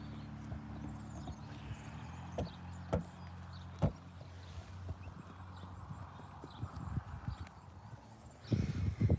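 Horse hooves clip-clop at a stable, a few sharp distinct knocks spaced irregularly, fairly close but quiet, with shuffling and a louder burst of steps at the end.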